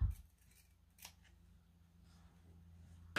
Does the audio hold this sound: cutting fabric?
yes